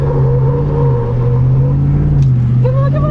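Whipple supercharged Chevrolet Silverado Trail Boss engine, a loud steady low roar rising in pitch as it accelerates, heard from inside the truck during driving with a voice briefly over the engine.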